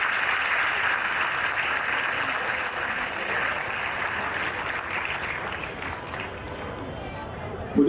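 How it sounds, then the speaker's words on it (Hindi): Sustained audience applause at a National Voters Day gathering in India, a steady dense wash of clapping that holds for several seconds at even loudness, with a slight swell at the very end. "जब आप ऐसी बात पे ताली मारते हैं"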